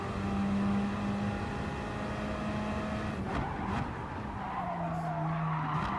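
Gr.4 race cars at Laguna Seca in the video game Gran Turismo Sport produce a sustained, loud engine whine with shifting pitch and tire squeal, continuous throughout, with no talking.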